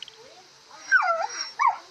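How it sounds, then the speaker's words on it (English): A cartoonish dog sound effect from the life-simulation video game BitLife, a mutt trying to snatch a hot dog, gives two short whimpering yips close up against a quiet background. "Your mutt Bailey just tried eating a hot dog right out of your hand"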